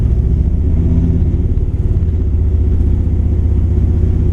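A 1959 Chevrolet El Camino with a 348 Tri Power V8 idling with a misfire, a loud, close, low rumbling engine whose pulse stumbles unevenly, with no talk.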